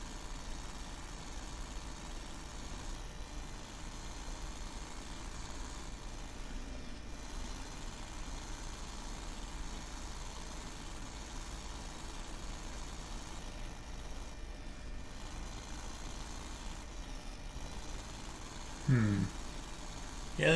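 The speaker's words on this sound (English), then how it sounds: "That doesn't even sound like the same engine." A modded truck engine in the Snowrunner video game idles with a supercharger whine and lopey rumble, a steady low drone running throughout, ending with a short louder burst near the end.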